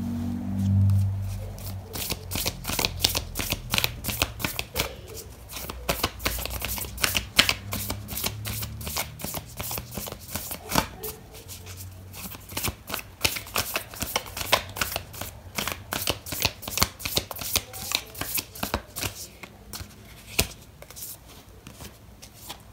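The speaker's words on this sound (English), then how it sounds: "I'm going to pull out an oracle card for you" Oracle cards being shuffled by hand, a steady run of soft, rapid papery riffles and flicks, close and fairly quiet, with no talking over it.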